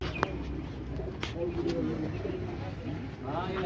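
Red-eyed teddy pigeons coo softly close by, with low, faint calls under background chatter and a few sharp clicks.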